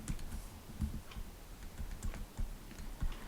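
A pen writes notes for a maths exam question, making soft, close scratching and tapping strokes in an uneven rhythm, with no talking.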